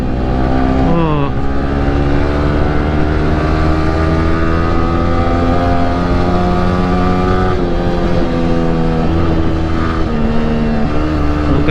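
A Yamaha R15 V3 motorcycle with its standard exhaust revs hard toward the limit while riding, a loud, close, continuous engine note that climbs and shifts through gears. Wind noise runs steadily underneath the whole time.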